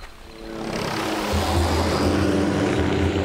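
Border patrol helicopter flying low over desert sand at around 80 miles per hour, a rising rumbling engine and rotor drone that swells in and holds loud and steady.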